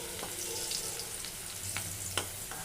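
Potatoes fry in hot oil for a mutton dish, giving a steady close sizzle broken by a few sharp crackles and pops, with no voices.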